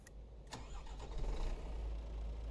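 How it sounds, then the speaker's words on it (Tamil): An old KSRTC bus engine, under restoration, cranks with a couple of sharp starter bursts and then catches in one go, settling into a loud, steady diesel idle close by. "வண்டி செம்மையாக ஸ்டார்ட் ஆயிடுச்சு ஒரே செல்ஃபில் ஸ்டார்ட் ஆயிடுச்சு பாருங்க"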